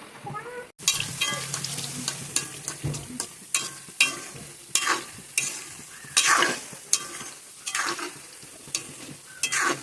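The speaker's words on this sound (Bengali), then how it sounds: "পান্তুয়াগুলো খুব সুন্দর করে এবার একদম সুন্দর করে লাল লাল করে ভেজে নেব" Pantua, a Bengali sweet, fries in hot oil with a continuous bubbling sizzle and repeated close scraping strokes of a utensil, and a faint cat-like cry briefly rises over it.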